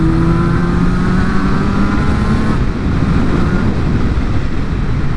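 Yamaha RD350LC two-stroke motorcycle pulling away on a first ride, its engine note rising under heavy, constant wind rush across the microphone.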